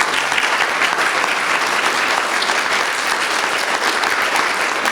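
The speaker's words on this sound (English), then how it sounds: "Let's give a round of applause for the panelists." Sustained, dense applause from a conference audience for the panelists, loud and steady throughout with no talking over it.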